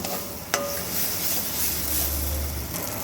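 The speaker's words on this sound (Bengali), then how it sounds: "খুব ভালো করে নাড়াচাড়া করে আবার এর সঙ্গে মিশিয়ে একটু কষিয়ে নেব" A tomato spice paste with a little sugar is stirred and fried in a pan for a mustard-oil fish curry, soft sizzling under the scrape of a utensil, with one sharp clink near the start.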